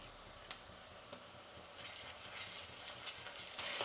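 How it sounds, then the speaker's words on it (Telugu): Ginger garlic paste frying with onions in a pan for a restaurant-style chicken curry gravy, giving a soft, steady sizzle with a few faint stirring scrapes and a slightly louder crackle toward the end. "అల్లం వెల్లుల్లి పేస్ట్ కూడా పచ్చి వాసన పోయేంత వరకు వేయించుకోవాలండి."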